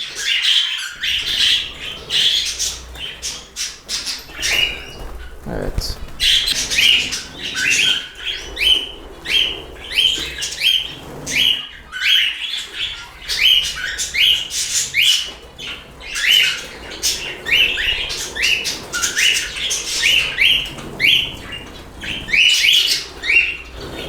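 Budgerigars and a cockatiel chirp and squawk in rapid, continuous chatter close by, with sharp overlapping calls and no talking.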